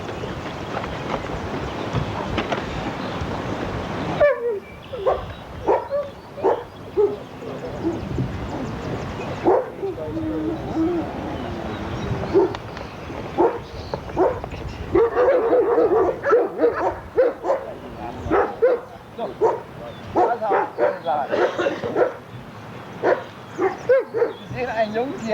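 A young dog gives sharp barks and yips scattered among spoken voices, the short bursts coming irregularly through the talk.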